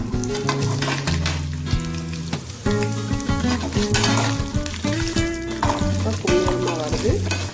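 Grated coconut sautéing in a pan until golden for a chilli chutney, a steady frying sizzle with stirring scrapes under continuous background music.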